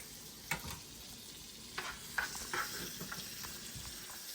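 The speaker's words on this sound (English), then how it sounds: "We're going to let the butter brown and cook the garlic real quick" Butter and garlic sizzle in a pan over high heat, a steady soft hiss broken by a few sharp clinks of a utensil against the pan.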